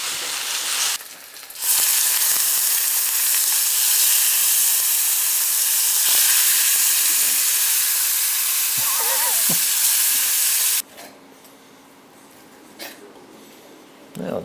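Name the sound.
duck breast searing hot in a pan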